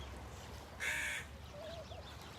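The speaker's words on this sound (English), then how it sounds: "Yeah, we got lots of crows up here." A single crow gives one harsh caw at a distance, brief and fairly faint over a quiet outdoor background.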